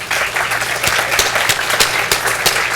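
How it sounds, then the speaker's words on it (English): Audience applause for panel presenters at a roundtable session, a loud close patter of many hands with a few sharp individual claps standing out and a low hum underneath, no talking. "could we also have a round of applause for all of the presenters and all of the people that made this possible?"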